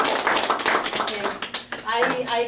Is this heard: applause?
yes